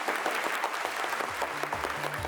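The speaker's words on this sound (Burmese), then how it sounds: "လက်ခုပ်တန်အကျဉ်းနဲ့အားပေးရအောင်" A studio audience claps for a Masked Singer Myanmar performer in a short, dense burst of applause that holds steady and fairly loud throughout.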